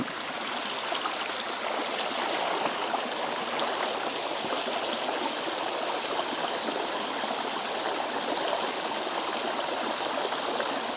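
A forest stream flows in a constant broadband rush, with soft trickling and gurgling detail, steady and fairly close, with no voices over it.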